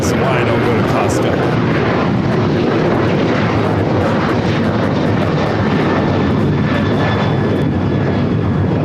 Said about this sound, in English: This is United Airlines 1260 taking off to Denver, Colorado on the 737-900ER.